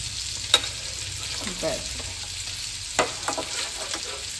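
Prawns frying in a pan, a steady close sizzle broken by occasional stirring scrapes and clicks, with no talking.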